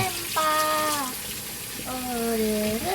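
Tap water runs into a sink while dishes are washed, a steady close wash of water with tonal whistling sweeps layered over it and no speech.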